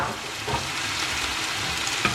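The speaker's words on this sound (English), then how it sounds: "So we're going to mix all this together" Thyme, rosemary, bay leaf and spices stirred in a frying pan for a spicy prawn spaghetti: a close, steady sizzle with soft scraping and a couple of light utensil taps.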